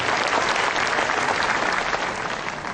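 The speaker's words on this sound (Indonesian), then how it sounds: "So, tepuk tangan sekali lagi buat Second Year Anniversary of Energy Indonesia." Dense, steady clapping from an audience at the Enagic Indonesia second anniversary event, loud and continuous for a couple of seconds, with no talking over it.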